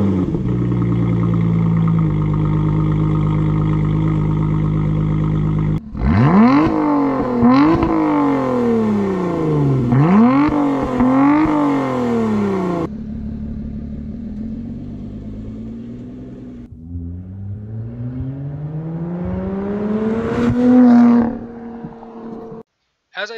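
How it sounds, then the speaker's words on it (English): A 2017 Lotus Evora 400 fires up from cold with a loud burst, then settles into a rising-and-falling idle before several sharp revs climb and drop back, ending in a long final rev and abrupt cutoff. "Now I'm going to give you guys a nice little cold start and some revs."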